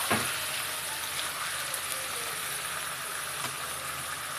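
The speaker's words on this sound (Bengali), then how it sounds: "মাংসটাতে দিয়ে দেব দিয়ে লো ফ্লেমে মাংসটাকে কষে নেব দু তিন মিনিট এইভাবে কষবো" Mutton pieces cooking in a pan over a low flame, giving a faint, steady sizzle with soft hiss and occasional light pops throughout, no voices.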